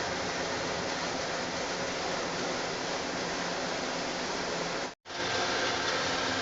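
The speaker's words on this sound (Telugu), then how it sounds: "ఫ్రెండ్స్ సరిపడిన వాటర్ పోస్తున్నాం." Water is poured steadily into a pot at home to make tea for an evening snack, giving a continuous, dense rush with one brief break near the end.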